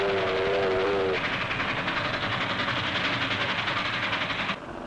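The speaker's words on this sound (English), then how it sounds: "the big steam engines leaving their trails of smoke behind them, puffing and puffing out history with every turn of their wheels" A steam locomotive train in New Zealand puffs along with a rapid, rhythmic chuffing over rolling wheel noise, after a short whistle at the start, steady and moderately near.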